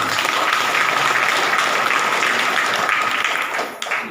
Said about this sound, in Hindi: तो ताली बजाना चाहिए।